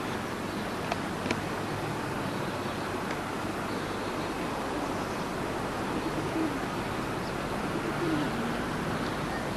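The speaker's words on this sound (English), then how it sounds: "I will show you pigeons." Pigeons cooing at Newark Castle, a low soft murmur running steadily under broad outdoor background noise, with a few faint distant calls.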